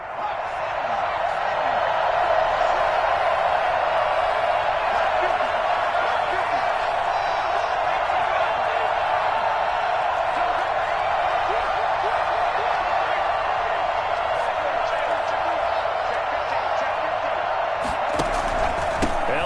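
Crowd roar in a Madden NFL football video game after a big touchdown play, a dense, steady cheer filling the stadium throughout with no break, loud and continuous.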